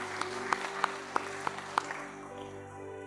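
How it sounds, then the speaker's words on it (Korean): Church congregation at a Korean Sunday service clapping as a blessing, faint distinct claps in a steady rhythm over a sustained background tone, fading out toward the end. "우리가 박수로 축복 한번 하겠습니다"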